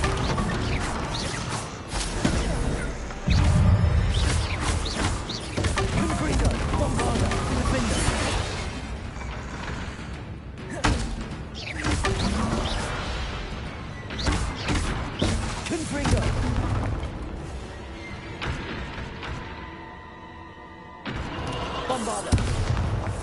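Confringo blasting-curse explosions from the video game Hogwarts Legacy: repeated heavy booms and thuds in a loud, dense stream of spell effects, with brief quieter gaps between bursts and a voice heard among them.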